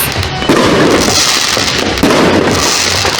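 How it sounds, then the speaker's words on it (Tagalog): New Year fireworks burst overhead in a dense, continuous barrage of crackling pops and booms, loud and close, with two heavier surges and no talking over them. "So, ayan na yung mga fireworks."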